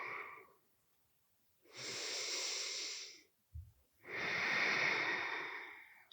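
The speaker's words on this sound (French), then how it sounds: "Encore du respiration." Slow, deep yoga breaths: a long breathy exhale, a brief pause, then two extended airy breaths, close and steady, with no talking.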